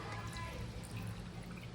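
Liquid is poured steadily into a mixture while making pizza, a continuous soft trickling stream heard close, with a low background hum and voices nearby.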